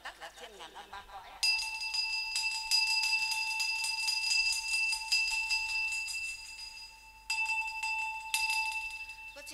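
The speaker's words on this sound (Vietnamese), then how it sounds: "con xin kính thỉnh một hồi ba tiếng chuông" A ritual bell at a Vietnamese spiritual ceremony is struck three times, each strike a bright, clear ring with a long sustained tone that keeps sounding between strikes, fairly quiet and alone.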